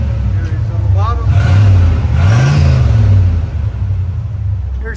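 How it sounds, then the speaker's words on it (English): A 1987 Oldsmobile Cutlass V8 with twin Dynomax Race Bullet exhausts, burbling at a deep idle and then rising in one swelling rev before settling back, loud and close. "A double DYNOMAX bullet sounds so much better."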